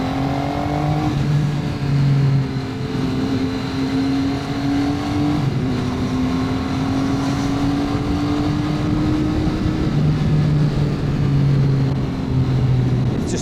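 Motorbike ridden through Chiang Mai Old City, Thailand: a close, steady engine drone whose pitch climbs and dips through several gear changes, continuous and with no voices.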